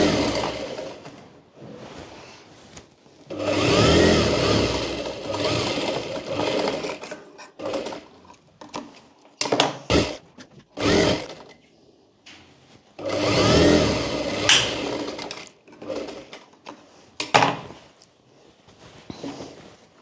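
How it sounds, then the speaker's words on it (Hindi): Close, loud bursts of a sewing machine stitching a lehenga for a five-to-six-year-old child, with steady runs of rapid needle chatter separated by pauses, short stops and a few clicks. "तो यहाँ से पूरे में एक बार और सिलाई लगा लेंगे और अस्तर को भी फिट कर लेंगे हम"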